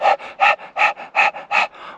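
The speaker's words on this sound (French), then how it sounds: "complètement essoufflé" Heavy, ragged panting from someone out of breath after a mountain hike, about five loud gasping breaths in quick rhythm, each sharp inhale followed by a softer exhale, close to the microphone with no talking.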